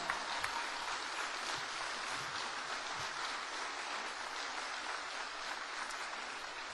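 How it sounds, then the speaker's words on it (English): Concert audience applause for performers, a broad, even roar of many people clapping, somewhat distant and sustained for the full duration with little variation. "I want everybody to give them a standing applaud"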